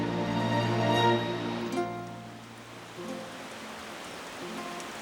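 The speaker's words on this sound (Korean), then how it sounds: "쨍 하고 맑았다가도 후두둑 소나기가 쏟아지는 여름날." Steady summer rain shower in a mountain valley hisses evenly throughout, with a faint lingering tonal hum fading in the background.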